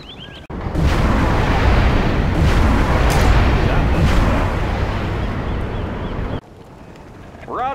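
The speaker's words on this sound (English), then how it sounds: "Warning, particle cannon activated." A particle cannon fires in a real-time strategy game, a loud sustained roaring blast lasting several seconds with crackling bursts before it cuts off abruptly, game voices faintly present.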